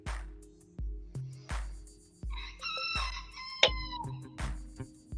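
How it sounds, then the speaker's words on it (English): A rooster crows in a long rising call over a steady backyard rhythm of repeated thumping beats, with no talk. "Somebody has a rooster."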